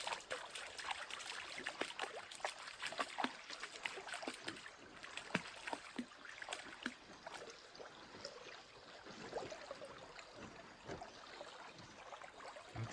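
A canoe is paddled along a lake shoreline: gentle water trickles and laps against the hull, and soft paddle dips repeat at an irregular pace. All of it is quiet and close, with no talk.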